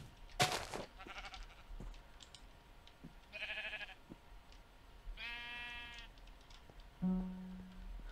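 Sheep in the Minecraft video game bleat a few times, short separate baas spaced apart amid quiet game sounds and soft clicks, fairly faint and with no voices.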